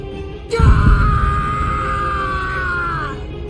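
In the video game Bleach Rebirth of Souls, a man lets out a prolonged, sustained scream of pain, beginning abruptly with a heavy thud and holding one strained pitch for over two seconds.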